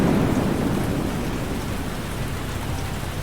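Heavy steady rain pours down during a thunderstorm, a dense loud hiss with a low rumbling undertone that continues without a break.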